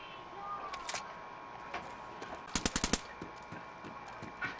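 Gunfire in the video game DayZ: a burst of about five sharp, rapid shots near the middle, with a few scattered single shots before and after over quiet ambient background.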